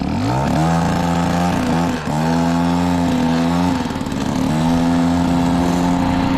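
Scooter engine fitted with a modified air box, running loud and close with a buzzing two-stroke tone, revving up and down in several short bursts with brief dips between them.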